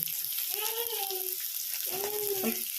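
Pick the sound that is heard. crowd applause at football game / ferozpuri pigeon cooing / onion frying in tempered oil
onion frying in tempered oil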